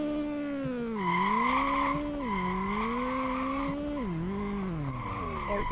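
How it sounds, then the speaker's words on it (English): A racing car's engine in Street Legal Racing Redline revs rise and fall in sweeping pitch changes while tires squeal and skid, loud and close throughout. "Alright, I can hear the engine."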